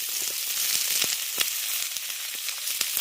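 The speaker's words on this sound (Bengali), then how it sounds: "ফোড়ন থেকে সুন্দর গন্ধ উঠতে শুরু করলে আমি এর মধ্যে দিয়ে দিচ্ছি কেটে রাখা টমেটো" Chopped raw tomatoes dropped into a pan of hot spice tempering for a Bengali dish, giving a steady, close, crackling sizzle with small pops throughout.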